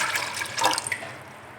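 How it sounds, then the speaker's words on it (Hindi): About one litre of water is poured into an open-mouthed cooking pot, a close, splashy gurgling stream that swells briefly and then settles into a softer, fading trickle, with no voices. "उसमें मैं तकरीबन 1 लीटर के करीब पानी डाल रही हूँ।"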